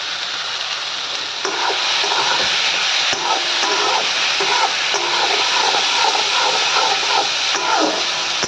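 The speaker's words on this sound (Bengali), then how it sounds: "চলো আগে তরকারিটা ভালো করে কষিয়ে নিই" Bottle gourd and paneer curry with meat masala and sugar is stir-fried in a pan, giving a constant close sizzle with repeated scraping spatula strokes, and no one talks.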